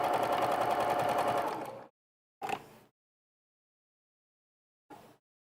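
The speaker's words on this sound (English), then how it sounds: "I'm going to add some quilting lines" A sewing machine stitches quilting lines on a kids' apron straight through batting, one close, steady run of about two seconds followed by two brief short bursts, with silence between.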